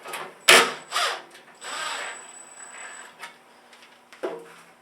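A nut is tightened onto a screw on the thin metal top of a Craftex CT053 1 HP dust collector, giving a few close metallic clicks, scrapes and rubbing sounds separated by short pauses.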